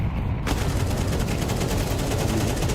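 AK rifle firing in a competitive video game match: after a brief quiet start, a loud, steady run of rapid close shots with a dense, even rhythm, no talk over it.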